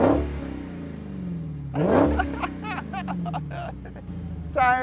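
Engine of a Dodge Challenger with a soft limiter around 4,500 rpm, revving hard and close. Two raucous blips climb and fall, followed by a rough idle rumble and a short burst of another rev.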